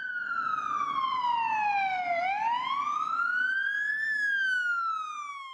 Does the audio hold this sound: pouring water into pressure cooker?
no